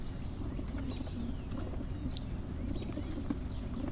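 A loft of about seventy pigeons during a training day, soft low cooing rumbling steadily throughout with faint wingbeats and chirps in the background.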